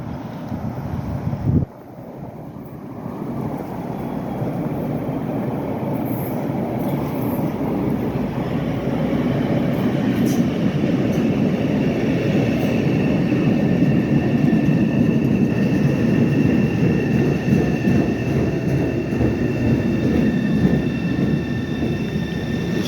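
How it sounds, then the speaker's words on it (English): An inbound Orange Line subway train in Roxbury, Boston rumbles in from a distance, its roar building steadily louder with wind buffeting the microphone and no talking. "Got the inbound train coming."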